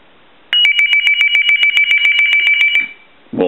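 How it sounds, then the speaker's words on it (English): A TA-1042A military field telephone rings loudly on a test bench, a rapid buzzing electronic warble pulsing about a dozen times in one burst before cutting off, followed by a brief clunk. "We'll turn our ring cycle back up."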